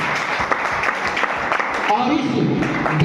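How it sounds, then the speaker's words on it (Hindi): Crowd applause at a company event in Ghazipur, a steady wash of many hands clapping for several seconds, fairly loud and close, with a brief voice cutting through near the middle. "एक जोरदार तालियों से MD सर के लिए आप बजा दें"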